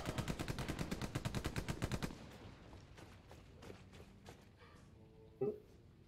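Gunfire in the World War II shooter game Hell Let Loose: a rapid burst of evenly spaced automatic shots for two seconds, then scattered quieter distant shots and one sharp report near the end.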